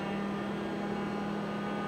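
Hydrovane variable speed air compressor running, a steady low hum with a constant tonal drone and broadband mechanical noise, fairly quiet and unchanging, with no voices.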